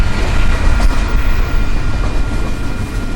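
Close and loud, a westbound Union Pacific intermodal freight train hauling mostly containers rumbles past a Grand Island crossing on the UP Transcon in a continuous heavy roar.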